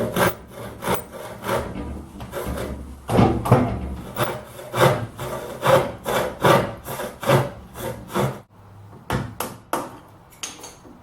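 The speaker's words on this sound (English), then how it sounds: "I'll hold the floorboards in a vise and make the cutouts with my back saw." A back saw cuts notches in wooden floorboards held in a vise, with rhythmic rasping strokes about twice per second, close and fairly loud, pausing briefly before a few final strokes; nobody speaks.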